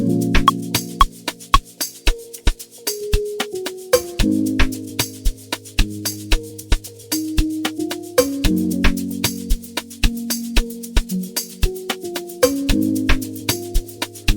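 Looping keyboard chord progression over crisp, evenly spaced drum hits and log-drum-style bass, steady groove in an amapiano style, no voices.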